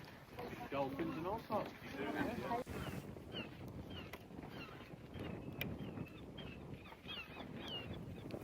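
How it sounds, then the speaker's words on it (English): Wind buffets the microphone in low rumbling gusts while people talk outdoors in Wales, the blustery roar continuing after the voices fade. "See how windy it is?"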